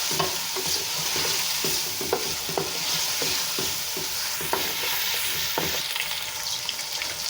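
Chicken fries with garlic and ginger in a pan, sizzling, with regular stirring scrapes and clinks cutting through the steady crackle.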